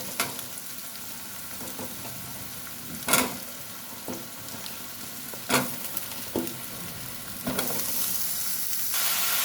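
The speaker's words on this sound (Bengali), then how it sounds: "সমস্ত সবজি দিয়ে দিয়েছি, এগুলো ভাজা ভাজা হতে দেবো।" Chopped vegetables fry in a pan with garlic, onion and chili, giving a steady close sizzle broken by a few sharp spatula clacks and scrapes, with no voices.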